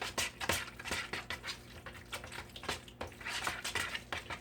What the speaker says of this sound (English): I do this as a final stir